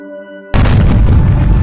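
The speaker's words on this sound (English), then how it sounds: "A loud explosion was heard, and the entrance collapsed" A sudden loud explosion at a mine entrance booms in after a brief tonal hum, its deep rumble and crackling debris of the collapsing entrance roaring on to the end.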